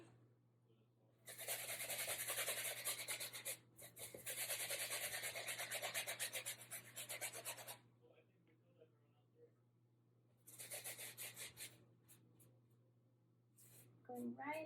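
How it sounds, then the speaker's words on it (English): A brush scrubbing acrylic paint onto canvas beside gold leaf in an abstract painting, dry rasping strokes in several long bursts separated by pauses, close up, with a low steady hum beneath. "Just scrub it in there."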